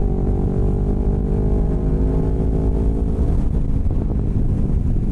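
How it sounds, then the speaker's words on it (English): Yamaha R3 motorcycle with a Boss Racing tune, its engine droning steadily and loud through the whole ride with wind rush, breaking into rougher crackling burbles toward the end. "I forgot this thing is tuned by Boss Racing, and the burbles are crazy."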